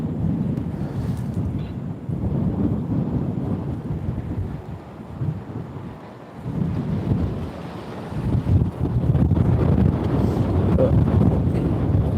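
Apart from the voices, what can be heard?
strong wind blowing on microphone at railway station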